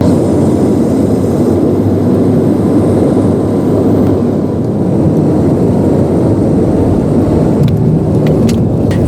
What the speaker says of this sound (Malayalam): ഇപ്പോൾ ഫ്ലൈറ്റ് നിലത്ത് ടച്ച് ചെയ്തിട്ടുണ്ട്.